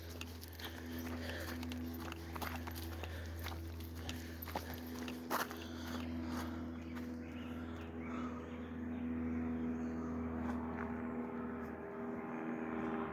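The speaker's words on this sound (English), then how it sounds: "That sounds like a plane." A distant airplane drones steadily in the background while footsteps crunch close by.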